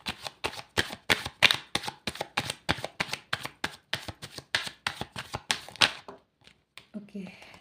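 Tarot cards being shuffled by hand in a rapid, regular series of crisp riffling bursts, about three per second, close and clear, ending in a brief pause and a few softer handling sounds.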